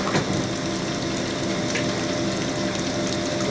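A honing stone works back and forth inside a Harley-Davidson Evolution engine cylinder, making a continuous loud grinding, whirring mechanical noise with a faint rhythmic ratcheting texture and no voices.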